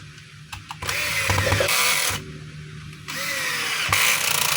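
A power drill driving screws back into a DeWalt D28720 14-inch chop saw, heard in two sustained whirring bursts with brief pauses and clicks between them, close and fairly loud with no talking.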